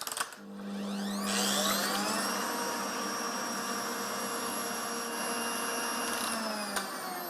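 An electric mixer beats egg whites for a meringue, a steady close whirring motor hum that rises in pitch as it gets going and holds for several seconds.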